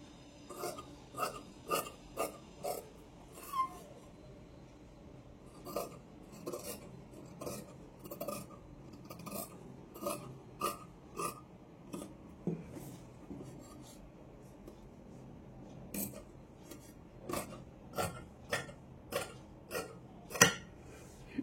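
Scissors snipping through blouse fabric along chalk marking for the back piece, a steady series of short crisp cuts with brief pauses, close and fairly quiet, no talking.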